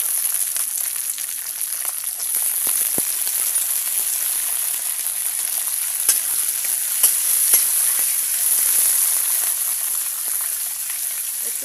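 Seeds hit hot oil with browned onions in a pan, setting off a steady, loud sizzle and crackle with scattered pops and light stirring clicks throughout, no voices.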